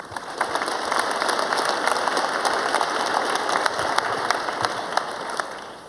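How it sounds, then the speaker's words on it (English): A crowd applauds steadily throughout, dense clapping from many hands that stays even in loudness from start to finish. "give yours a round of applause"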